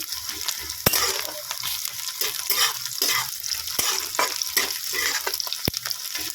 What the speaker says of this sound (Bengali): খালি আদা রসুনটা একটু ভালো করে লাল লাল ভেজে নিতে হবে